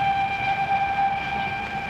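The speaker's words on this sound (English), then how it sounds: "Train coming in on platform 3." A 1940s train arrives at a wartime London station platform during the Blitz, heard as a steady, sustained whistle-like tone over a continuous rumbling background.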